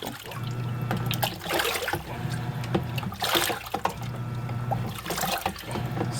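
Water trickles and sloshes inside a Haier HLP23E portable washing machine during its fabric-softener rinse cycle, a close, continuous dribbling with periodic splashy surges over a low motor hum.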